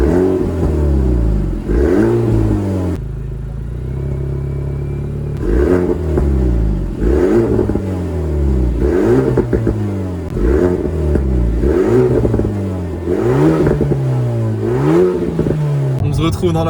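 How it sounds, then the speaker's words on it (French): An Alpine A110's four-cylinder engine revs repeatedly, rising and falling in sharp bursts with a brief quieter pause, loud and close. "je vous fais écouter enfin ce 4 cylindres"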